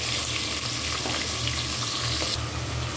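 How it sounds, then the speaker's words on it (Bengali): Shrimp frying in a little oil in a cooking pot, a continuous close hiss and sizzle with occasional stirring scrapes, no voices. "চিংড়ি মাছটা আমি এভাবে একটু ভেজে নিলাম"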